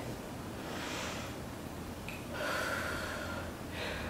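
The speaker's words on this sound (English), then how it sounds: "in through the nose, out through the mouth as you stretch." Soft breathing in and out during a power yoga stretch, faint, close breaths with a gentle hiss of air drawn in and pushed out, heard alone with no talking.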